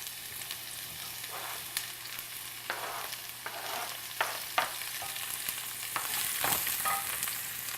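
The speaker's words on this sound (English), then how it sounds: "saute our leeks, and I've got a couple of tablespoons of olive oil in the skillet" Leek rings sautéing in olive oil in a skillet, a steady close sizzle with frying crackles and intermittent stirring scrapes, no voices.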